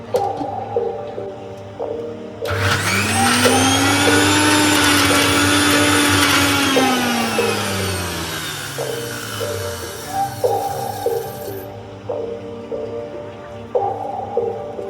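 A mixer grinder grinding chutney whirs loudly in a rising, high-pitched whine that holds for several seconds, then winds down, with clinking kitchen sounds before and after.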